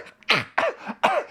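Someone narrator's voice imitates a spider creature coughing: three harsh, raspy coughs with throat-clearing growls, close and loud, spaced roughly half a second apart.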